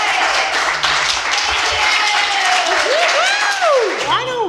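Audience applause for a band at a live comedy show in Oklahoma, a steady dense wash of clapping with crowd noise and a few whistle-like sliding tones near the end.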